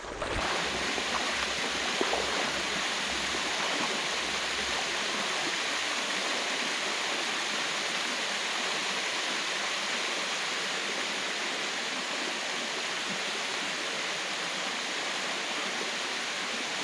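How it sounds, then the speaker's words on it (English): A waterfall rushes in a constant, broad roar, loud and unbroken throughout, with no voices. "I think I see or hear a waterfall up here."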